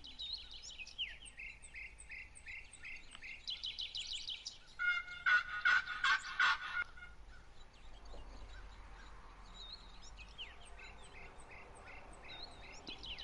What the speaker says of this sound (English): Don't know if I hear a turkey